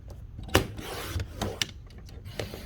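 A paper trimmer blade slices through cardstock at a Close To My Heart card-making workshop: one sharp close scrape followed by softer rasping strokes and small clicks, quiet and with no talking.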